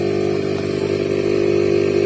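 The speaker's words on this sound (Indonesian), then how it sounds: "Yang pasti ini mesin kompresor aktif." A refrigerator compressor under repair runs on a workbench power supply, drawing about 1.2 amps, giving a steady, loud, buzzing mechanical drone with no breaks.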